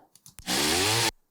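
A chainsaw sample in FL Studio roars for a short burst of about half a second after a few small clicks, a loud, harsh, buzzing snarl that cuts off abruptly, with no voices.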